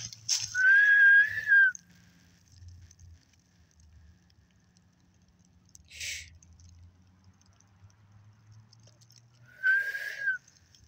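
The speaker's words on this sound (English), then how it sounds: "I'm gonna whistle again." A person whistles outdoors at night: a sustained whistled tone, a short burst midway and another whistle near the end. Long stretches of quiet between them hold faint low rumble and rustling.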